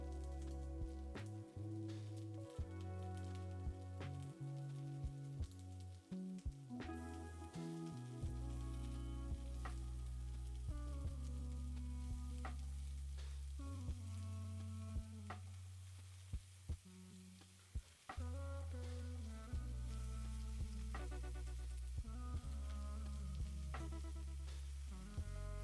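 Ribeye slices sizzle loudly and steadily in a hot pan layered around rice, a continuous close frying crackle with intermittent pops and scraping from arranging the meat, with warm music playing throughout.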